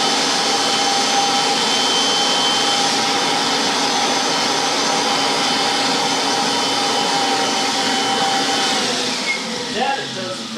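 A Kirby Generation 3 upright vacuum cleaner runs steadily with a loud, constant motor whine and airy rush, holding even throughout before easing slightly near the end.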